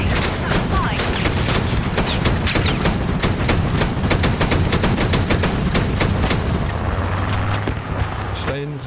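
Rapid gunfire from guns in a video game, a dense burst of sharp repeated shots at a steady fast rhythm, loud and close, with a voice talking over parts of it.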